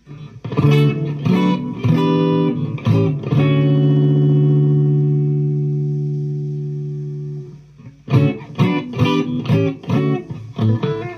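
Electric guitar chords ring out drenched in heavy reverb through a Fender Mustang Micro, one chord sustaining and slowly fading before a burst of quicker strummed notes returns.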